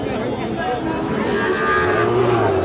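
Sahiwal calves at a busy cattle market low continuously and loudly, one voice rising near the end, over dense crowd chatter and market bustle.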